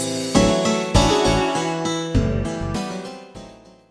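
A song corrupted by Harmony Cloak AI poisoning, playing as a loud, harsh, garbled musical texture with sudden chord-like hits that decay between them, short and unrecognizable.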